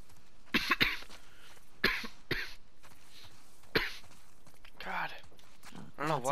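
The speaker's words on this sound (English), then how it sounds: "I'm just like coughing nonstop." Several sharp, close coughs in short bursts, some in quick pairs, with brief quiet gaps between them and a bit of faint voice near the end.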